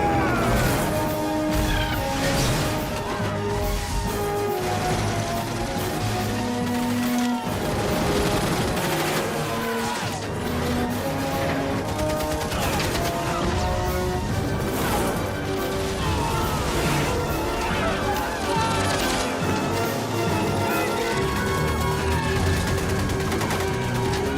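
A film battle scene brings dense, continuous gunfire with crashes and impacts, laid over a loud score and heard throughout, with a voice shouting once.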